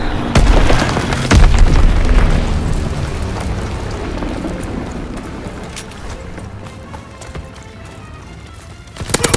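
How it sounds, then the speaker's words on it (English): Explosions from an enemy bombing run rumble in the World War II shooter game Call of Duty WWII, with heavy booming blasts early, then a rolling low rumble that fades, and a few sharp clicks at the end. "Enemy bomb incoming."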